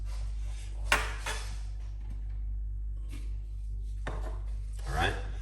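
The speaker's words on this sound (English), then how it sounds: "I'm just gonna cut up my ingredients in the meantime" Celery, lime, apple, ginger and cucumber being chopped with a knife on a cutting board, with a few sharp, separate cuts over a low background hum and no talking.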